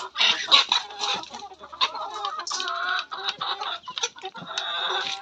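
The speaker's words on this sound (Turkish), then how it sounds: "Bir tarafta tavuk bir tarafta" Several chickens cluck and squawk busily close by in a coop, overlapping calls rising and falling without pause, with a rooster's harsher notes among them.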